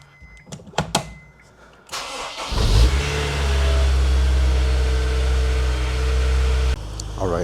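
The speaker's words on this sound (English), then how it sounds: "here we have the S2000 out of the garage. I'm just gonna let it warm up for a couple minutes" A Honda S2000 sports car starts after a few clicks and knocks, its engine catching with a loud burst then settling into a steady, close idle as it warms up outside a garage.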